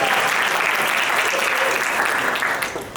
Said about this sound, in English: can I go first with some cheap applause?